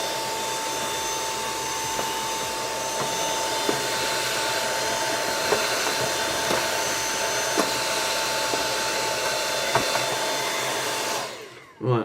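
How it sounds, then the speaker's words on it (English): Sharp VZ-3500 vacuum cleaner sucking up cobwebs and spiders, a loud, steady whirring drone that holds for about eleven seconds before winding down and cutting off at the end. "They're now in the Hoover."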